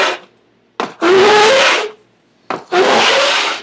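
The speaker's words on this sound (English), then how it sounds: "so I have to sand more, and I haven't even gotten to the backside yet" Two long, loud rasping strokes of sandpaper across the wooden body of a handmade piccolo guitar, each preceded by a short scrape, with quiet pauses between them and no talk.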